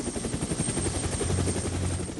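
A military helicopter from the Vietnam War runs continuously, its rotor making a steady, throbbing thump under a broad roar at close range, with no speech heard.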